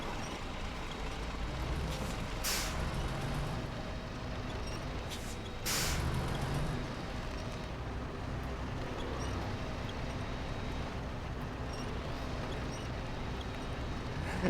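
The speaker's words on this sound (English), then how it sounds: "Every time I work the air brakes on this thing back and forth" Two short bursts of truck air-brake hiss cut through a steady, rumbling engine background, each release sharp and brief, while towing a trailer.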